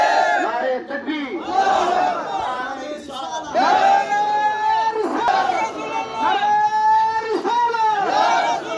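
A crowd at a human-chain protest in Bangladesh chants Allahu Akbar in answer to a takbir call, loud rhythmic group shouts repeating roughly every second and a half, close and forceful, with no other voice between them.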